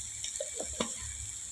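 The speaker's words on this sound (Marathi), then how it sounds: "आणि आता तेलामध्ये छान हे परतवून घ्यायचं आहे" Onion-garlic masala and turmeric sautéing in hot oil, a soft steady sizzle with a few quick stirring clicks, brief and close, no voices.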